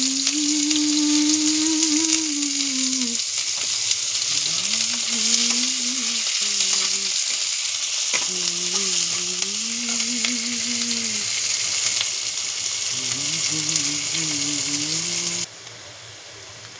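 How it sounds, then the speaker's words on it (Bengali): Sliced onion sizzling in hot oil in a pan, a loud continuous frying hiss that persists throughout, with a faint tonal hum weaving underneath; no one speaks. "এই গরম তেলেই আমি পেঁয়াজটা দিয়ে দেবো"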